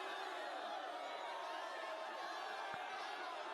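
Crowd of onlookers murmuring and reacting during a throne ceremony scene in the video game Metaphor: ReFantazio, a steady wash of distant chatter and jeers with one brief thump near the end.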